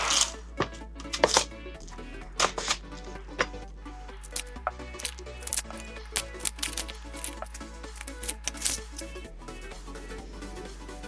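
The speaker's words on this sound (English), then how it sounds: "And they do say chopped. So we'll chop that." Celery stalks chopped with a knife on a cutting board, sharp close thuds in uneven quick bursts, with brief pauses between runs of cuts and no talking.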